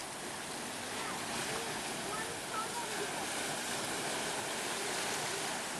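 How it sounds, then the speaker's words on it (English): Atlantic Ocean surf on the Maine coast rolls as a steady broadband wash, constant and fairly faint with wind buffeting the microphone, and soft voices are mixed in beneath it. "And here's where the ocean is."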